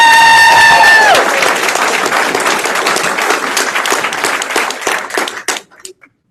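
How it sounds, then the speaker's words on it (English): Applause and cheering from a mayoral debate audience in Prince George start loud under a tone and a voice, then thin into scattered individual claps that die away to silence near the end. "What kind of applause should that be?"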